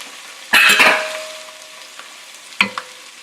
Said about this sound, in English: Now I'm adding a chopped onion. And I'm going to cook it until it turns golden brown